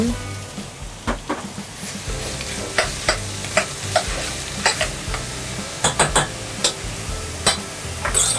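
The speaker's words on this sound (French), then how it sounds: "On va ajouter notre viande de bœuf et notre pâte de salami" Beef and salami paste frying in butter in a pan, a steady sizzle broken by repeated sharp scrapes and clinks of stirring, close and fairly quiet, with no talking.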